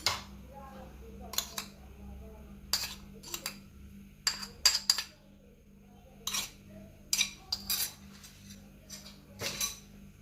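A spoon stirs mayonnaise sauce with onion in a bowl, giving repeated light clinks and taps against the dish in irregular bursts over a low background hum.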